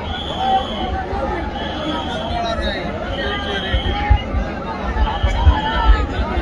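Crowd hubbub fills a welcome rally in Manchar town, a steady dense murmur of many voices with occasional louder shouts and thumps rising out of the mass.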